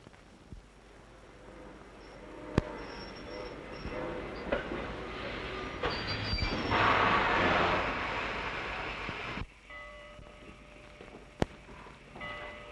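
A train rumbles steadily past with metallic clanks and squeals, building to a loud middle section before dropping away, with sharp clicks along the way.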